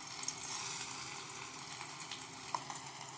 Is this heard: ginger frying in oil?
yes